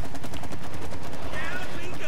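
Rapid gunfire from the co-op video game It Takes Two, bursts of shots running through the whole short stretch with players talking over it.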